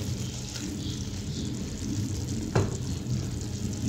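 Chana dal frying in a pan, a dense continuous sizzle and rumble with stirring scrapes and one sharper clack of the spoon midway, close and loud, no talk.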